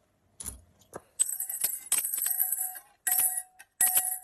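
Coins clink and jangle as they drop into a piggy bank, in several bursts separated by short pauses, close and bright.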